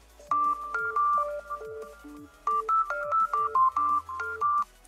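Default ringtone of the Resurrection Remix Android 6.0.1 ROM on a Samsung Galaxy S4 I9505: a bright synthetic melody of short stepping electronic tones, played loud and clear with no talk, pausing briefly before repeating.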